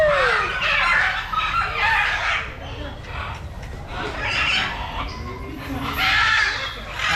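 Macaw parrots at a safari park in Bangladesh squawk in loud, harsh bursts that recur every couple of seconds, close by, with people talking around them.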